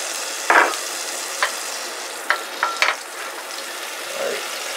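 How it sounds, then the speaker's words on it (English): A couple of tablespoons of butter drop into hot oil in a pan, giving a few short bursts of sizzle and clatter over a quiet, steady frying hiss. "After I got my oil in there, I want to drop in about a couple of tablespoons of butter."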